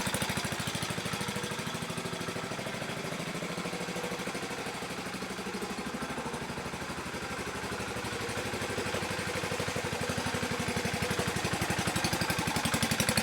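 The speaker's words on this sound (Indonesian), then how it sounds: "sekarang kita ganti dengan mesin bajak untuk memutar penggilingan" A hand tractor's engine drives a sugarcane mill, running steadily with a dense, rapid mechanical chug and rattle, loud and close, for the whole stretch without voices.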